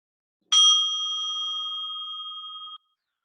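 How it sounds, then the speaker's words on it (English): A bell rings once during a yoga session. A bright single strike is followed by a clear, sustained ring that holds for about two seconds before cutting off in otherwise silent surroundings. "And just listen to the bell and let everything melt off."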